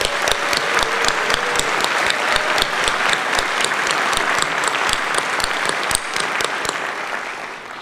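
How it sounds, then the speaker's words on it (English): An audience at a graduate school spring commencement applauds steadily, dense clapping with a few sharp standout claps, sustained loudly before tapering off slightly near the end. "Please join me in a round of applause for all of our outstanding graduates."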